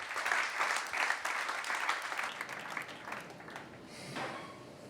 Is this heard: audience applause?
yes